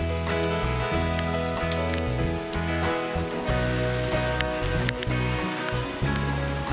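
Steady rain falls through dense old-growth forest in Xuan Son National Park, Vietnam, a continuous close patter and hiss on leaves with brief dripping accents and no voices.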